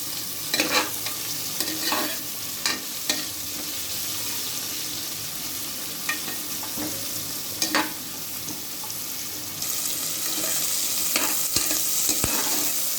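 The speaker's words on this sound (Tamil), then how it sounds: "அதுக்கப்புறம் கட் பண்ணி வச்சுருக்க வெங்காயத்தை சேர்த்துட்டு நல்லா வதக்குங்க அந்த எண்ணெயில்" Chopped onions sautéing in hot oil for coconut milk rice, a constant bright sizzle with repeated sharp spatula scrapes and clacks against the pan throughout, no voices.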